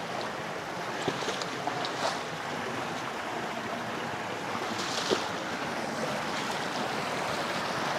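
Small waterfall of spring water spilling over rocks by a river, a steady close rushing splash with slight surges, no voices.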